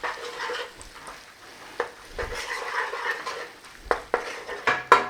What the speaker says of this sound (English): So that spices is blooming in that oil.